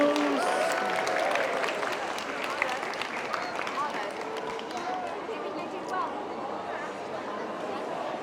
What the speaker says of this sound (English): Big round of applause for the Maine Coons.